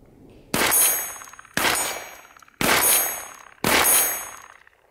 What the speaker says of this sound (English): Now Dmitry will shoot with Vzor-3TK red dot